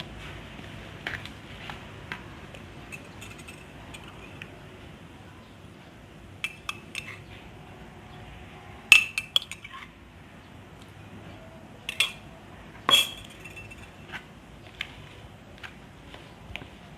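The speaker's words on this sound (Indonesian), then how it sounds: "Kemudian aduk sampai merata." A spoon stirring a mixture in a bowl, sounding as soft scraping with sparse sharp clinks against the bowl, a few louder knocks near the middle and later, close and otherwise quiet.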